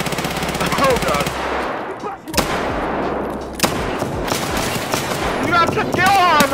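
Rapid automatic gunfire and single loud shots in a tense Escape from Tarkov firefight, sustained bursts with sharp cracks throughout, with excited voices shouting over the shooting.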